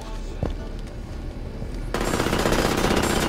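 Rocket launcher firing in bursts in Halo 5, a brief thump early on, then an abrupt loud rapid stream of shots filling the second half, with a voice audible under the quieter opening.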